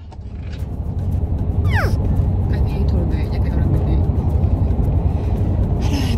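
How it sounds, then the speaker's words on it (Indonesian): Steady low road rumble fills the cabin as a car drives along, heard from inside, with a woman chatting over the continuous engine and tire noise and a brief squeak partway through. "mobil udah jalan, aman deh"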